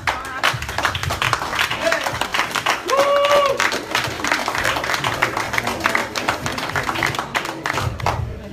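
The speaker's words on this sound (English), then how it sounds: "give Blue Eye another round of applause" An audience claps and applauds at a roast event, a dense, steady patter of hands throughout with crowd voices and talk mixed in.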